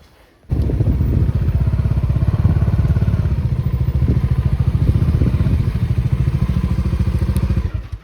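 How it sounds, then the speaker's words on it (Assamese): A motorcycle is cold-started on a mountain road near Tawang and Bomla Pass. After a moment of near silence the engine catches abruptly and settles into a loud, close, steady idle with rapid even thumping pulses that holds for several seconds. "বাইক অলপ কোল্ড ষ্টাৰ্ট দি লওঁ"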